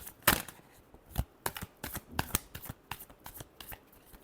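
A deck of tarot cards is riffled and shuffled by hand in a quick series of crisp, separate snaps and flutters, close and clear with no voices.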